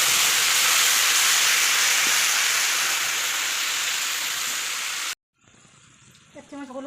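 Cumin and spices hit hot oil in a pan for a Bengali fish curry, giving a loud, steady, close hiss that lasts about five seconds before cutting off to quiet kitchen sounds.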